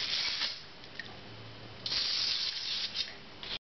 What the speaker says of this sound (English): I've got some spray, oil spray